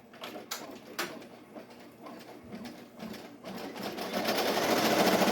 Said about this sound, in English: it's gonna embroider now on the pink color that I chose.